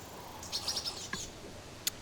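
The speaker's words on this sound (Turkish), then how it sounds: "etrafta kuş sesleri falan döngüdeki bir mp gibi bir şey herhalde kapanıp daha sonra tekrar açılıyor." Short looping bird chirps and tweets in the survival game Survive the Island sound faintly against a quiet background, with a few brief calls scattered through and one sharper chirp near the end.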